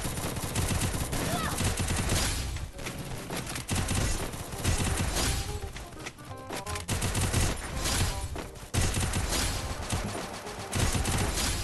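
Rapid gunfire from the Free Fire shooting game, played on PC, rattles in dense repeated bursts over loud, continuous game audio, with only brief lulls between volleys.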